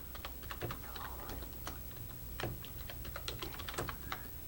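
Steady quick keystrokes on a computer keyboard as an email address is entered into a sign-in page, close and clear, with irregular clicks and occasional louder taps and no talking.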